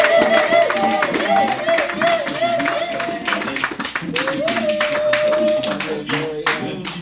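Congregation at a prayer gathering clapping steadily in acclamation, a dense run of hand claps with singing or voices underneath, loud and close throughout.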